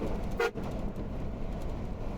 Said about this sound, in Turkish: Kornaya bastım ki fark etsin